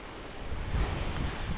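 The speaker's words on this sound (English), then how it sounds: "Whew, it's windy." Strong wind buffets the microphone on a mountain pass during a bike climb, a steady, loud low roar with gusting swells throughout and no voices.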